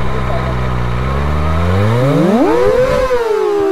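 Sport motorcycle engine, a Kawasaki ZX25R or KTM RC200, revving close and loud, its pitch climbing in a smooth sweep before dropping back, heard alone.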